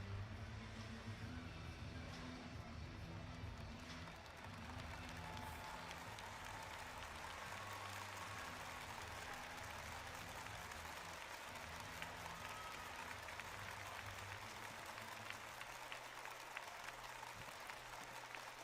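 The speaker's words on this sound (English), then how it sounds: "the ALVARK Tokyo fans showing their appreciation, their applause to their players" Basketball fans at an ALVARK Tokyo home game applaud their players after the final buzzer, a distant, faint wash of clapping from the arena crowd with an announcer talking over it.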